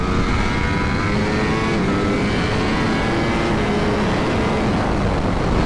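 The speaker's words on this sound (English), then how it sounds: "Tracks like this, you actually really get a chance to open up a 200 horsepower bike" A 200-horsepower Ducati motorcycle runs at speed on a race track during World Ducati Week 2022, giving a loud, continuous engine roar that holds steady throughout with no talking.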